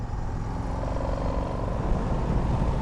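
Indian FTR 1200 motorcycle engine growling steadily with a low, rumbling drone, heard while riding, loud and continuous with road and wind noise mixed in.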